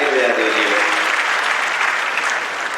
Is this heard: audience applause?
yes